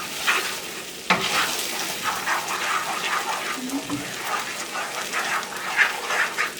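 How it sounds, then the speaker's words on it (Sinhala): A spoon stirs egg bhurji around a hot pan, with the scraping, sloshing strokes repeating irregularly over a soft sizzle, close and clear. "දැන් ඔයාලා හොඳට මේක කලවම් කරන් මේ හැම එකක්ම රස බිත්තර වලට මේ කවලම් වෙන විදිහට"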